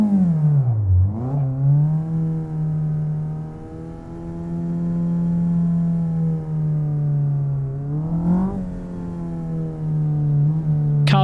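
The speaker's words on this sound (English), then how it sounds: "Car's quite loud, isn't it?" A loud car engine in the Assetto Corsa racing game holds a steady droning rev, dips low, climbs back and holds again, a sustained tonal whine heard alone and close without any talking.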